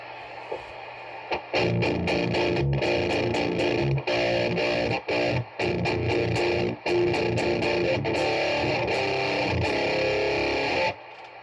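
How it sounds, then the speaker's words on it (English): Heavily distorted electric guitar chords through overdrive and distortion pedals, fuzzy and thick, strummed in bursts with brief pauses, loud and close throughout. "when I'm using overdrive and distortion like that, it gives it a lot more like fuzziness to it"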